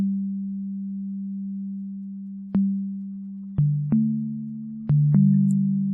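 A pure, steady sine wave tone from a Yamaha synthesizer oscillator hums low, then steps between a few pitches, each change marked by a faint click.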